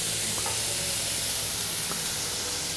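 Crushed garlic sizzling in olive oil in a pan as spinach is about to go in: a steady, bright crackling hiss that fills the whole stretch, close and even, with a couple of faint taps and no talking.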